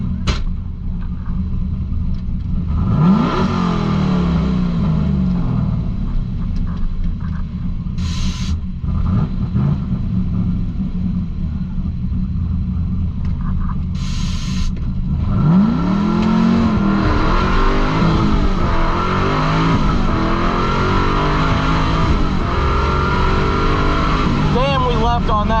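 An LS-swapped Mazda Miata on a 250-shot of nitrous roars hard down a drag strip, a loud close engine climbing through revs with two audible shift breaks, while voices talk over it.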